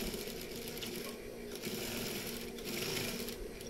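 A sewing machine stitches fabric on a baju koko garment, a steady, continuous mechanical whir and rapid needle clatter at moderate distance, alone without speech.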